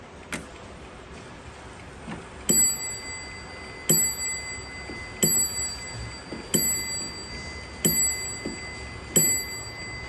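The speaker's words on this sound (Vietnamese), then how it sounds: "Đây, thì cứ 30 phút là sẽ điểm chuông một lần." A Japanese household clock chimes its half-hour signal, a series of six bright, ringing bell strikes at a steady pace of roughly one every 1.3 seconds, each decaying quickly, with faint ticking and room noise between.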